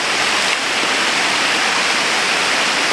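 A waterfall running low after a month without rain gives off a steady, even rush of falling water, close and continuous, with no voices.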